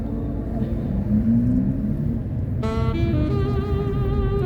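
Car driving through the streets of Grozny in spring, with a constant low road and engine rumble heard from inside the cabin and a tonal whine rising partway through.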